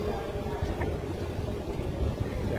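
A steady low engine rumble with a churning, watery texture, like a motorboat drawing closer, fairly loud and continuous with no talking.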